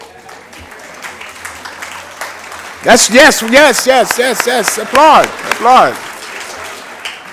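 An audience at a library event breaks into loud applause after a few seconds of quiet room tone, with the clapping continuing in bursts while a voice speaks briefly.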